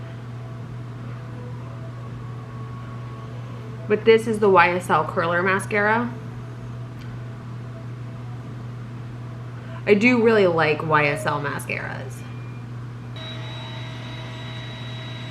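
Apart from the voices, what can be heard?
Roomba robot vacuum running in background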